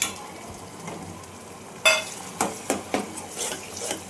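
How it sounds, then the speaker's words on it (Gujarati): Tomato paste being stirred into frying cauliflower, onion, ginger and chili: a soft sizzle under several distinct scraping strokes of a spoon against the pan, close and clear, with no talking. "હવે એમાં ઉમેરી દે ટમેટાની પેસ્ટ"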